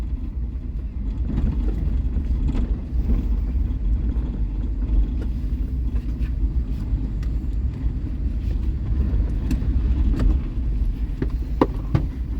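A car drives along a road during a driving lesson, giving a continuous low engine and tyre rumble from inside the cabin with occasional small clicks and light wind noise. The level stays steady throughout.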